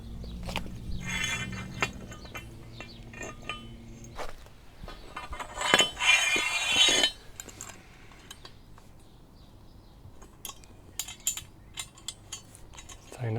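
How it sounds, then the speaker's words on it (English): Grub screws being tightened on a metal clamp of a pull-up bar, with scattered metallic clicks, ratcheting ticks and clinks, plus a louder rattling stretch midway, close and fairly quiet. "Tighten up the grub screws."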